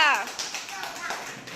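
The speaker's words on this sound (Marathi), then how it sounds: "व्हेरी गुड टाळ्या वाजवा" Young schoolchildren in a first-grade classroom clapping after a number game prompt, a short adult voice followed by a soft uneven patter of many small claps, moderately faint.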